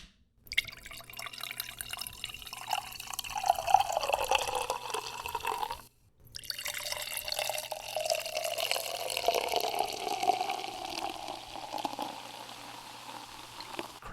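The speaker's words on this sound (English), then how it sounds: "You can see it pours kind of a nice clear straw color, moderate bubbles" High and Dry cider from Stowe Cider pours into a glass, a continuous fizzing, trickling stream that runs for several seconds, pauses briefly, then resumes, close and moderately loud.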